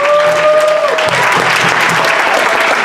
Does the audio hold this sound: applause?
yes